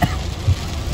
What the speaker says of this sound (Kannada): ಸಖತ್ ಮಳೆ ಇದೆ.